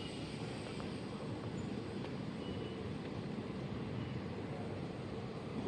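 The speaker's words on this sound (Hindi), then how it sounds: "क्योंकि ये ट्रेन उधर जा रही है, मतलब यही शिवनाथ एक्सप्रेस" A steady, continuous rumble of a passing Shivnath Express passenger train in India, with even low roar and rail noise throughout, no voices.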